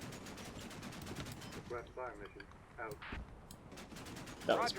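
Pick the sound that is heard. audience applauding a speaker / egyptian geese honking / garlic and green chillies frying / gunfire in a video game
gunfire in a video game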